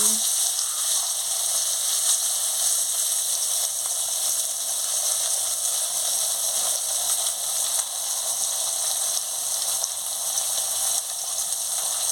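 Fish head frying in a pan of hot oil, a steady bright sizzle that hisses without pause throughout, close and even in loudness.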